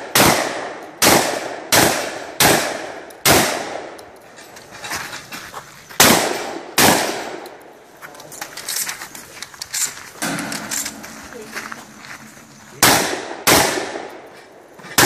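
Loud gunshots crack out during a 3-gun competition shooting stage, about a dozen sharp reports, some in quick pairs and some spaced apart, with brief rapid strings and ringing echoes in between.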